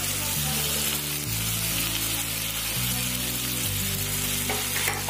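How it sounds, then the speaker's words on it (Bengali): Chicken in chili vinegar, tomato, chili, soy and oyster sauces sizzling in a pan for a Chinese-style sizzler, a steady close hiss and crackle with occasional stirring, under soft background music and no speech. "ভালোভাবে নেড়ে নেব।"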